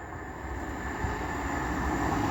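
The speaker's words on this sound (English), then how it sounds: "The next train to be thundering down the line will be a pairing of 195s from" A pair of Class 195 diesel trains on the Leeds to Manchester Victoria line rumble past Castleton in a steady, close roar with constant rolling noise, heard alone.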